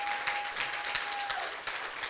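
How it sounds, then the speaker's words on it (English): An audience at an alumni masterclass breaks into a brief round of applause, a full, even clatter of many hands with a few louder claps standing out, a steady tone running beneath. "Please, let's give all of them a round of applause"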